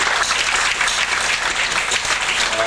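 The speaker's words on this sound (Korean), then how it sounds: "여러분들 뜨거운 박수 부탁드립니다" Sustained audience applause fills the hall at a 1995 concert, dense and steady from start to finish with no voices on top.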